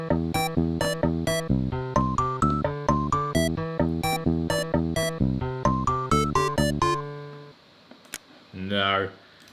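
Mario Paint composition played back: a steady run of bright, tuned note blips in a bouncy rhythm with a low bass pulse, loud and clear, ending abruptly around eight seconds, followed by a short sweeping sound effect.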